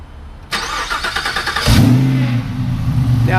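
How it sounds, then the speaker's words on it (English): A Chevrolet LT4 V8 with a 10-speed transmission and quiet exhaust cranks over and fires, then settles into a loud, steady idle with a deep rumble, close by in a shop. "Let's start this LT4."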